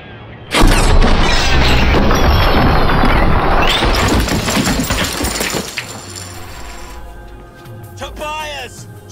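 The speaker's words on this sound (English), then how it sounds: "Someone's shooting!" In the Watch Dogs (2014) PC game, a sudden loud burst of gunfire and crashing impacts erupts and rumbles on for several seconds before tapering, with voices heard amid the chaos.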